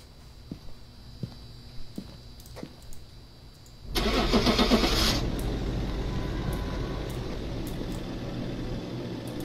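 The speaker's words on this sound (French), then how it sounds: "T'as démarré le camion ?" A truck engine in the Phasmophobia video game cranks and catches with a loud burst around the midpoint, then settles into a steady idle, after quieter scattered footsteps and clicks.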